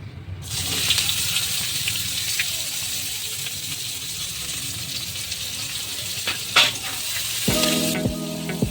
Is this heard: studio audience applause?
no